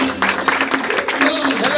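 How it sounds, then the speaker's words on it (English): An audience at a live show claps for a volunteer coming up to help, a short burst of fairly steady applause with a voice briefly heard over it. "Clap for them."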